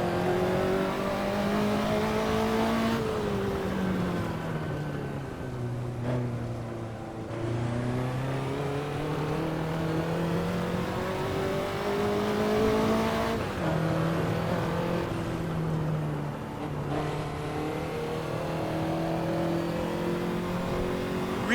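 A Ferrari 288 GTO driven in the racing game Assetto Corsa, its engine droning loud and close as it revs up through the gears, with sweeping pitch rises and sudden drops at each shift over a continuous run.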